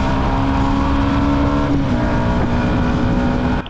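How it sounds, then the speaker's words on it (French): A 125cc motorcycle accelerating on an open road, its engine holding a steady, loud droning whine with one brief dip in pitch partway through, heard close and alone without talk. "Elle accélère quand même bien, ça c'est sympa."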